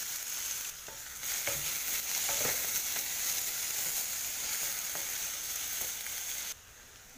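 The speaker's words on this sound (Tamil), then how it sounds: "2 வெங்காயம் பொடிசாக கட் பண்ணியிருக்கேன், கருவேப்பிலையும் சேர்த்து அதில் வதக்கிடுவோம்" Finely chopped onions and curry leaves fry for mushroom sukka with a continuous, fairly soft sizzle and occasional stirring scrapes. The sizzle drops away briefly near the start and again at the end, with no voices.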